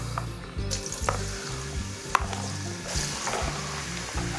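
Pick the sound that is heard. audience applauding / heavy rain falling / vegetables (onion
vegetables (onion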